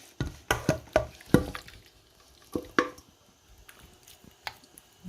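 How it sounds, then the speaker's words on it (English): Raw chicken wings are set down one after another onto an oven tray: a run of close, wet, squishy slaps and taps, then a pause and a few softer placements. "I'm just going to put all the wings into this"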